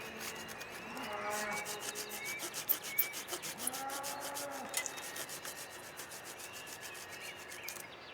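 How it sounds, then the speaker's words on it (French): Rhythmic rasping strokes of a hand saw cutting through fruit tree branches while pruning, steady back-and-forth scraping repeated many times, fairly close. "Ce que je fais à l'aide d'une scie, vu le diamètre de ces branches."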